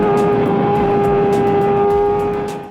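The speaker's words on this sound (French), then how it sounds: "Quand on entend ce moteur tourner, on la confond facilement avec une 600 ou une 1000." A Kawasaki Ninja 250 motorcycle engine screams at high revs with a steady, whining tone, loud and close, before cutting off abruptly.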